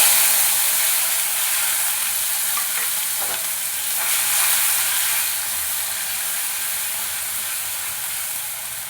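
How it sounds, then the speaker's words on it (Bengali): Cloves, cardamom, cinnamon and bay leaf frying in oil after potatoes for egg biryani, a steady bright sizzle lasting throughout with a few faint clinks, no voices. "এর ওই তেলের মধ্যে দিয়ে দেবো লং এলাচ দারচিনি তেজপাতা"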